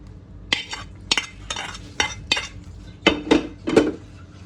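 Roasted cashews are stirred into a pot of semiya payasam, producing a series of distinct metal spoon clinks and scrapes against the vessel in an uneven rhythm, with quiet gaps between.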